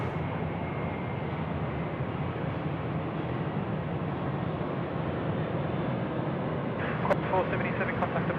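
An airplane takes off from runway 34 left at Sydney Airport at night, a steady, broad jet roar heard at a distance, with brief faint voices near the end.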